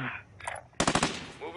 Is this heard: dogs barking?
no